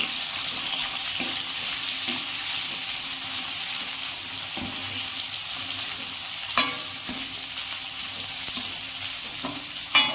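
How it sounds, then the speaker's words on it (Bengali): Onions sizzle in hot oil over a high flame for mutton curry, with a continuous bright frying hiss and periodic scraping stirs of a spoon against the pan. "পেঁয়াজগুলো একটু নাড়িয়ে চাড়িয়ে নেবো।"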